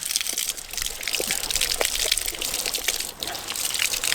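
Water from a tap gushes and splatters through a shop vac filter being rinsed from the inside out, a continuous nearby running and spattering sound with small irregular drips and bursts.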